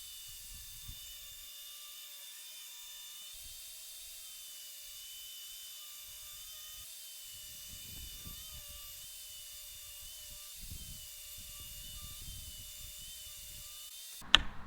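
A power saw rips wooden boards into 4-inch strips, its steady high motor whine running throughout. Short low rumbling bursts come and go as stock feeds through, and a sharp clack lands at the end.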